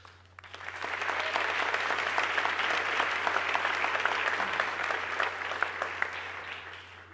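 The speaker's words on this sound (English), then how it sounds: "deserve a huge round of applause." Steady applause from an audience at a Young Floridian award presentation in St. Lucie County, building quickly and holding evenly for about six seconds before starting to taper, dense clapping with no voices over it.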